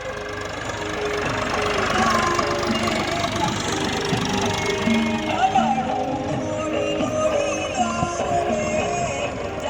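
A tractor engine chugs steadily nearby at night, a loud rumbling drone with knocking vibration, and voices are faintly heard over it.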